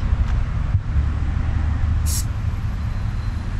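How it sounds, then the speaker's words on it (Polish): Steady outdoor wind buffets the microphone with a low, continuous rumble, one brief high hiss cutting through near the end. "Wieje wiatr."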